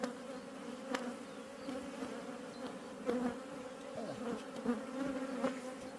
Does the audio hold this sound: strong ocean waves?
no